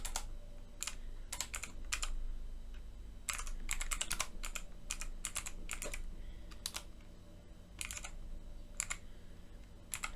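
Keys clatter on a computer keyboard in quick, irregular clusters of close, light taps with short pauses between bursts, and no one speaks.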